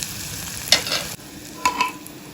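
Dal tips into a sizzling tadka of fried spices and softened tomato in a home kitchen. A spoon stirs it with scraping clatters over a soft, steady sizzle, and two stronger bursts stand out.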